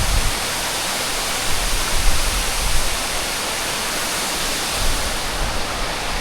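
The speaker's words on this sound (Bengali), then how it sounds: "এইখান দিয়ে জল বয়ে যাচ্ছে, আর ঠিক পেছনে একদম ছাঙ্গে ফলস এই ওপর থেকে নামছে।" Changey Falls pouring down from above while water flows past in a stream, a steady, dense broadband rush that stays loud and even throughout.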